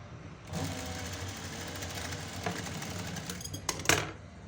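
An electric sewing machine stitches piping onto a square neckline, running in a steady continuous whir for about four seconds after a brief pause, with a few sharper clicks and taps near the end.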